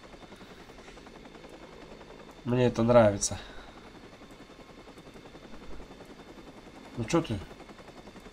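A helicopter in Watch Dogs keeps up a steady, rhythmic rotor thrum throughout, with someone speaking over it in two short bursts.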